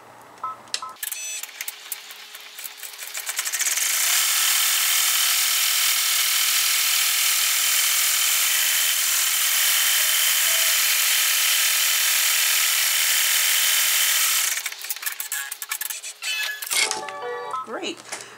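An embroidery machine doing the final stitch-out of an in-the-hoop window wallet first clatters in short bursts, then runs a loud, steady, high mechanical whir for about ten seconds before returning to lighter clattering.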